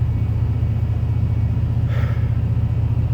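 A 1986 Ford F-250 bullnose pickup idles steadily with its carburetor, a low, even engine rumble holding constant and close from start to finish, with no talking over it.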